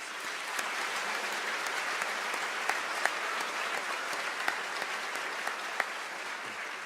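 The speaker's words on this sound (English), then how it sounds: "Please join me in another round of applause for our outstanding musicians." Steady audience applause for pipe and drum musicians at a college convocation ceremony, dense sustained clapping with a few sharper individual claps standing out, moderately distant and even throughout.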